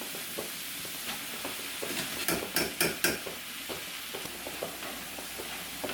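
Drained rice tipped onto mushrooms in a pan over high flame and stirred, a soft continuous sizzle broken by a cluster of sharp spoon scrapes and clacks against the pan midway, with lighter taps after.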